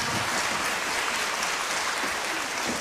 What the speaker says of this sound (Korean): 이 자리를 빌어 심재권 전 국회의원님께 큰 박수 부탁드립니다